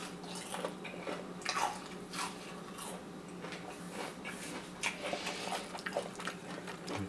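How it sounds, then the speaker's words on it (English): Crunchy bites and chewing of crispy homemade onion rings, a run of close, sharp crackles spread over several seconds with no talking. "let's get those onion rings a taste test in 3, 2, 1"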